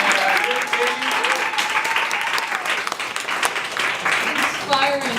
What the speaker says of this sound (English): Let's just get a round of applause for both Kareemah and Kade.